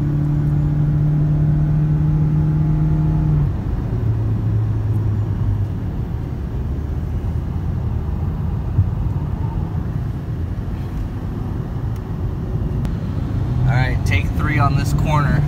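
Self-driving car lapping a race track, its steady engine and road noise running continuously and fairly loud throughout, with a tonal whine that shifts pitch early on and voices talking over it.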